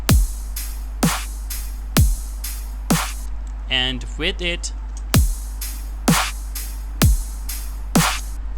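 A snare drum beat without a transient shaper repeats steadily, sharp hits over a low thump, briefly interrupted by someone speaking before the pattern resumes.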